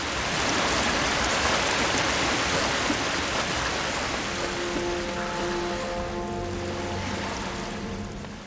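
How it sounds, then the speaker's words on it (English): A roaring waterfall pours in a cave in the Harry Potter and the Philosopher's Stone PC game, a loud continuous wash with faint ringing tones near the end. "The quests for Fireseeds feel like a real adventure with its roaring waterfalls and the loud echoes of water droplets in the caves"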